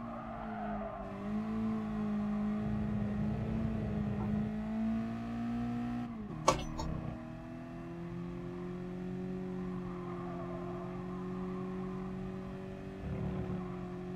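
A Mazda MX-5 engine in the racing game Gran Turismo Sport holds a steady, buzzing note that rises and falls in pitch, with a sharp brief clack about halfway through and no talking.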